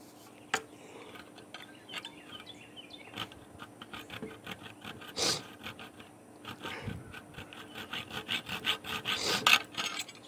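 A hacksaw blade starts a cut in a metal bolt for a gun trigger job, giving irregular scraping and rasping strokes that build from slow, light rubs to a steadier, louder rhythm near the end, close by with no talking.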